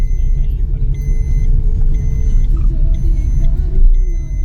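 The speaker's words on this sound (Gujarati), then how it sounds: "અમે જઈએ છીએ અત્યારે જમવા માટે નીકળી ગાડી લઈને જમવા જઈએ છીએ" A car driving along a rainy road on the way to a meal, heard from inside as a loud, steady low rumble of engine and road noise with a faint whine and no break.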